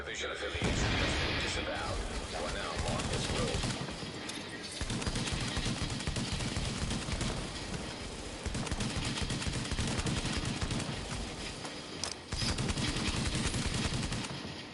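Heavy shotgun gunfire from The Division, a third-person shooter, blasting in dense rapid volleys almost without pause, loud and close, with only brief gaps between bursts.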